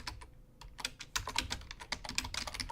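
Typing a YouTube search on a computer keyboard: a brisk run of close, quiet clicky keystrokes with short pauses, no talk.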